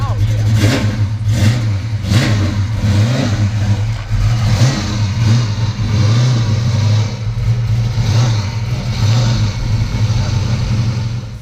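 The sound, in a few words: cammed Windsor V8 Fox Body car engine revving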